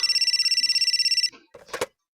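Batman's bat phone ringing with a fast, steady electronic bell trill that cuts off after a second, followed by brief rustling and a short voice.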